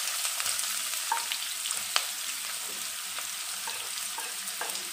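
Onions sautéed in hot oil for a vegetable stew, a bright continuous sizzle with occasional pops and spatula clicks, close and even throughout with no voices.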